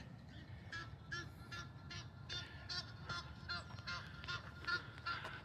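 A flock of ducks at a park quacks and honks in steady, repeated bursts, fairly close, over a low rumble of background noise.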